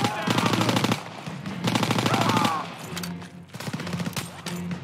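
Rapid automatic gunfire from a Call of Duty WWII battle, loud sustained bursts of machine-gun fire with short pauses between volleys and scattered single shots, with a voice talking over it.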